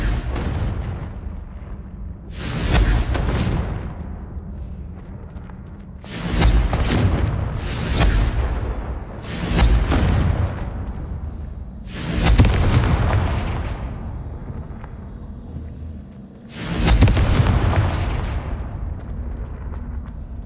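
Blasting-curse explosions fire in a Harry Potter video game as six loud booming blasts, each with a long trailing rumble, spaced irregularly over a steady low background.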